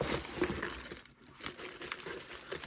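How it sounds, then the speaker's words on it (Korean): A book club year-end gift package being torn open, crinkling wrapping and paper rustling in uneven bursts with a short pause midway, close by. "한번 뜯어볼게요."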